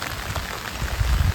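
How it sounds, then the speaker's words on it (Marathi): Steady rain falls during a bike ride, a continuous close hiss of drops with low rumbling gusts that thicken toward the end, and no talking. "परत पाऊस वाढलेला आहे."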